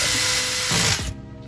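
A power screwdriver drives a screw into the plastic shell of a Caliburn 4 foam blaster, a steady close mechanical whir for about a second that drops to a quieter ratcheting tail near the end.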